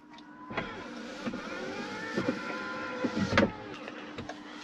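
Electric rear sunshade retracting inside a BMW 330i E90, a steady close motor whir with a few faint clicks and bumps as it folds down, heard alone at close range.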